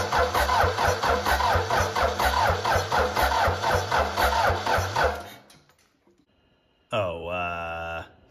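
A 4BT Cummins diesel engine cranks with a steady chugging starter rhythm for about five seconds, goes quiet, then fires and runs loud and close with a smooth, even drone.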